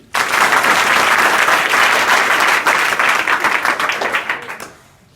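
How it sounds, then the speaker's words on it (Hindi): A crowd of school students claps loudly and continuously at a school event, a dense wash of applause that holds steady for several seconds and then tapers off near the end. "बजाओ जोर से ताली"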